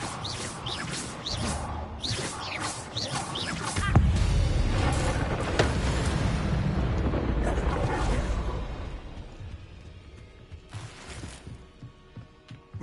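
Fiery spell blasts in the Hogwarts Legacy video game, a dense roaring burst swelling from about four seconds and rumbling loudly for several seconds before trailing off, with sharp whooshing casts and crackles around it.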